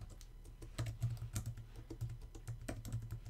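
Quick, uneven clatter of keys on a computer keyboard, close and fairly quiet, with bursts of keystrokes and short pauses, no voice over it.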